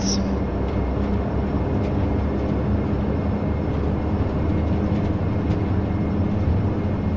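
Twin engines of a Majestic Dash-8 turboprop at takeoff power in FSX, a dense steady roar with a low rumble and humming tones, loud and continuous, with a voice talking over it.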